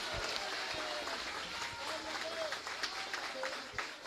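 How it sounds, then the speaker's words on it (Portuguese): A congregation at a missions conference claps for the Lord, a busy wash of applause mixed with voices, a few shouts and thumps, and some brief vocal tones over the crowd noise. "dê um aplauso bem forte ao Senhor"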